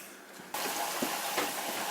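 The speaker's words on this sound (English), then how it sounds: "I'll put a little bit more water in there." Water suddenly starts pouring into a pot of soup in a home kitchen, a steady loud splashing gush that holds evenly after a quiet moment, with no voices.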